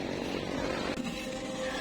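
Steady roar of road traffic with motorcycles and cars streaming past on a busy road in the Philippines, loud and close, with a brief dip midway as one vehicle passes.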